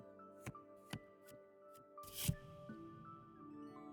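Tarot cards shuffled in The Cosmic Wheel Sisterhood, a video game: a few soft, separate card flicks and riffles over a quiet, steady musical drone, ending with one louder burst.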